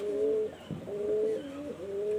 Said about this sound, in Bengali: পায়রা দুটি ছাড়া হলো